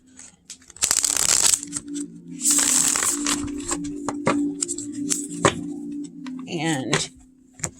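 A Yuletide tarot deck shuffled close up in two crisp riffling bursts, then scattered card taps and slides as the cards are handled, with a person talking briefly near the end.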